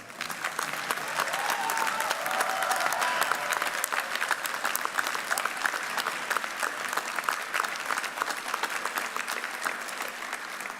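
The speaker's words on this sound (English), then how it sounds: "give our graduates another round of applause" A large audience at a University of Central Missouri fall commencement applauds its graduates, a dense, steady wash of clapping that swells slightly and holds for about eleven seconds without pause.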